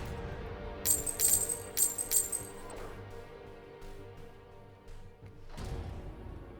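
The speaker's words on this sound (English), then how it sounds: "Several keys have fallen." Several keys falling in the video game AI: The Somnium Files, a quick run of bright metallic jingles and clinks in two bursts, then a softer thud, over quiet background music.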